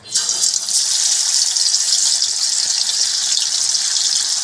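Chicken 65, marinated tandoori style, sizzles loudly as it hits a hot pan on the stove. A dense, hissing crackle swells immediately and holds steady throughout, close by and with no speech.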